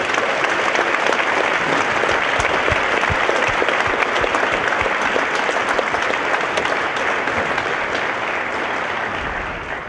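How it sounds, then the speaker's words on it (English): A large audience gives a sustained, loud round of applause after an evening talk at a CrossFit event, dense clapping filling the whole stretch without a break. "Would you give them one more round of applause?"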